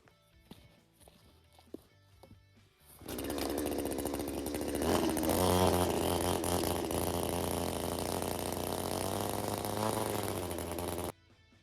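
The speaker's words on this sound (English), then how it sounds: "I'll run the chainsaw right down the middle of it to make them so they're not quite as long." Footsteps and small knocks are heard outside an off-grid tiny cabin in the snow. Then a chainsaw starts and roars loud and close for about eight seconds as it cuts through a pile of logs, its pitch wavering under load, before it cuts off abruptly.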